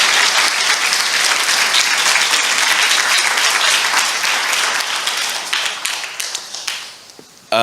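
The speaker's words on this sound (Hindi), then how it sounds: "आइए हम इस वचन के लिए ताली बजाएंगे जोर से।" Loud, sustained applause from a church congregation fills the space for about six seconds, dense and steady, then thins into scattered claps and fades out.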